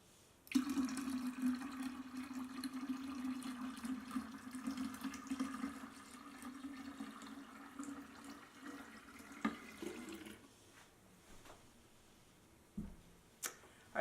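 Apple juice poured into a holiday punch bowl makes a steady, gurgling liquid stream that runs for several seconds and then tapers off, followed by a few soft clinks and knocks.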